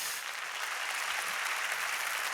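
Church congregation applauding for the Lord during a Spanish-language sermon, a steady dense wash of clapping filling the whole stretch without pause.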